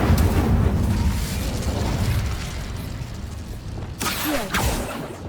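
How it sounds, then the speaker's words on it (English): An Incendio fire spell cast in Hogwarts Legacy inside a haunted Hogsmeade shop bursts with a loud, rumbling fiery whoosh over a dense, steady game soundscape, followed by a sharper flare near the end. "Incendio!"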